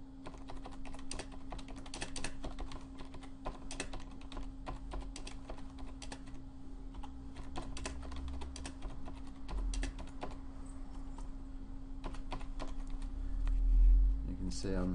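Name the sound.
typing on a computer keyboard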